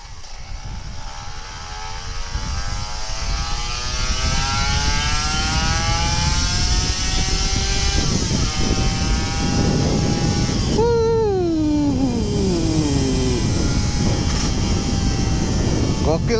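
A Kawasaki Ninja RR two-stroke motorcycle on a morning city ride revs its engine loudly and steadily, the pitch climbing through the gears and then jumping in a sharp rev partway through before settling back.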